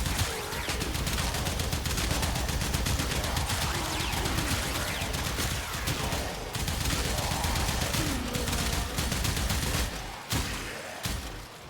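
Sustained fully automatic fire from the Kuva Kohm shotgun in the Warframe game, a dense, continuous roar of blasts with only brief dips, loud and relentless throughout.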